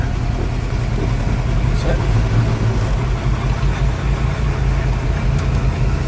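A steady, low V8 engine rumble from a 1964½ Ford Mustang convertible with a K-code 289 Hi-Po and 4-speed on the move, continuous and fairly loud throughout, with faint road noise.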